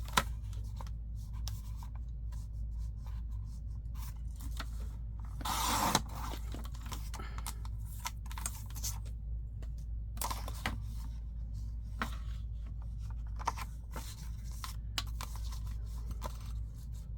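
Vintage cabinet cards from the 1800s and early 1900s are cut for a junk journal. Irregular crisp snips and paper rustles sit over a low steady hum, with one longer tearing swish partway through and no speech.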